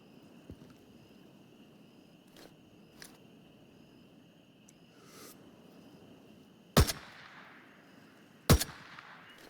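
Gunfire in a video game at a quarry military base: two sharp, loud shots a couple of seconds apart, each with a short ringing tail, standing out over a quiet background with faint clicks and a steady high tone.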